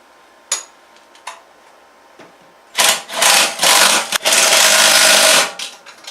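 Bolts being tightened on a Predator 212 engine after an oil change: a few isolated clicks, then several rapid, loud ratcheting bursts up close, with no talking.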